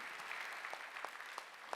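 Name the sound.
congregation applause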